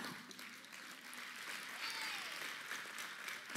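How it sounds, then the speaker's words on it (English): Audience clapping at a women's night church event, a moderate and steady patter of many hands that runs for a few seconds at a fairly even level. "it's okay, you can clap."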